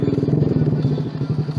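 A Yamaha R15 motorcycle idles nearby with a steady low engine rumble and slight rhythmic pulsing, with no talk over it.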